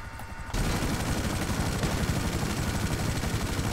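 Gunfire in GTA 5 starts suddenly and becomes a continuous, loud automatic roar that does not let up, mixed with what sounds like a helicopter or aircraft engine.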